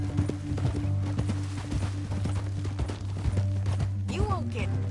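Horse hooves clip-clop steadily in Red Dead Redemption 2, over a constant low drone, with a brief whinny near the end and voices speaking over the ride.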